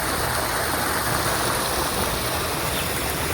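Floodwater after a night of rain rushes past a rural culvert bridge in a steady, dense roar, close and continuous, with no voices.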